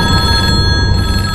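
Telephone ringing loud and near, a continuous electronic bell trill with a steady pulsing rattle, sounding alone without voices.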